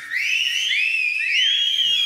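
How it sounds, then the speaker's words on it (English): A loud, shrill lip whistle from an audience member at a church sermon, a single sustained high tone with sliding pitch swoops, clear and alone over a quiet room. "Can anybody here whistle like that?"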